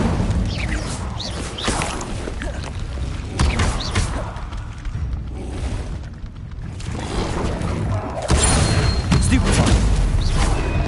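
Incendio fire spell cast in the video game Hogwarts Legacy, a burst of booming, crackling magical flame among dense battle effects, loud and continuous with surges near the end.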